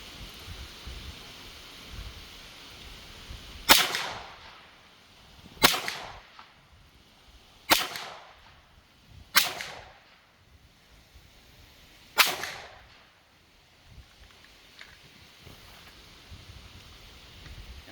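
Five distant gunshots from a Stribog SP9A1 9mm pistol-caliber carbine, fired outdoors at uneven intervals, each a sharp crack followed by a short decaying echo.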